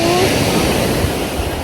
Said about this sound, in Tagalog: kung gaano nakakatakot yung alon.